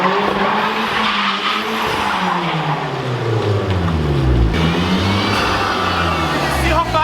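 A Hyundai Genesis with a manual swap skids through tight circles, its tires squealing in long wavering howls over a loud, steady engine drone that rises and falls, with people talking inside the car.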